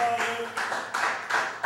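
At a 2006 poetry reading in a branch library, a small audience claps in a brief, rhythmic run of bursts a fraction of a second apart, moderately loud and close.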